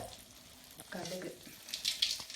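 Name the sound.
mustard seeds sizzling in hot oil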